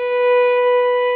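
A single sustained violin note, bowed steadily and clearly for just over a second, played during a shift from first toward third position, with no voices.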